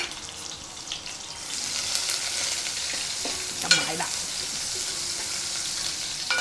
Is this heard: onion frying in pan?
yes